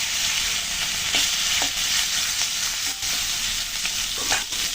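Baim eel fish fry in a pan with a steady, loud, hissing sizzle that runs the whole time, and a few light scrapes and stirs come through it, heard close up with no speech.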